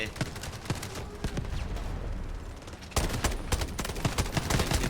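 Heavy, sustained gunfire from the combat game Delta Force: dense bursts of rapid shots rattle continuously and loudly, with a brief lull before a fresh, harder volley erupts near the midpoint.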